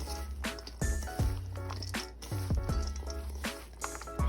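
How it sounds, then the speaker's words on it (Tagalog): Pancit noodles being stirred and folded into a vegetable lumpia filling, giving repeated soft wet squishing and slapping sounds in an uneven rhythm, close and fairly loud, with no talk. "Tapos ihahalo ko na yung pancit natin."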